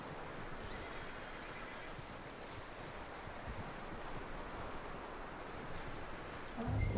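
A horse in the Red Dead Redemption 2 video game whinnies and snorts over a steady, windy outdoor wash of noise, with a slightly louder burst near the end.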